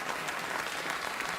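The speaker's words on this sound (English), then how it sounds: "what the audience is telling us with that applause is, move on" Studio audience at a late-night talk show applauds, a dense, steady wash of clapping with no voices.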